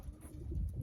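Young racing pigeons coo softly in a low, steady murmur, close by but faint, with no other sounds over it.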